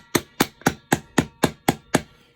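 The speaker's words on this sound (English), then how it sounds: "I'm going to grab my rubber hammer" A rubber hammer taps a motorcycle's rear brake control arm into place on a vintage Honda CB/CL350, eight evenly spaced, close, dull thuds in a steady quick rhythm.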